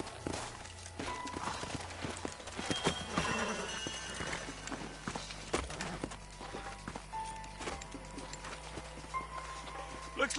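Horse hooves clip-clop at a walking pace in the video game Red Dead Redemption, mixed with a whinny and some background talk.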